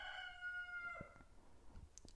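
A single rooster crows once, a drawn-out call heard alone against a quiet outdoor background and fading into faint ambient sounds.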